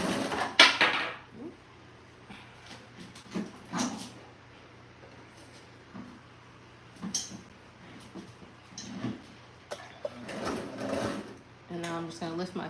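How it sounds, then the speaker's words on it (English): A sewing machine double-stitches fabric for bed pillows in short mechanical bursts of whirring and clicking, while a voice talks between and over the runs. "I'm going to double stitch it and then turn it this way."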